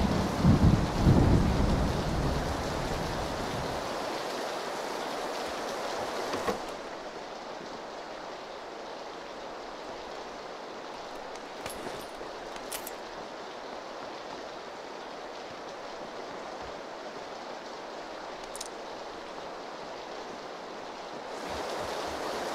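Steady rain in the battle royale game PUBG (PlayerUnknown's Battlegrounds), a continuous broadband hiss that starts loud with a low rumble, then settles into an even, moderately loud downpour with a few faint clicks.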